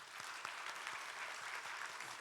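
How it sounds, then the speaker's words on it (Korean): A church congregation applauding together during a Sunday service, a steady wash of clapping hands filling the room at moderate volume, with no voices over it. "박수 한번 보내겠습니다"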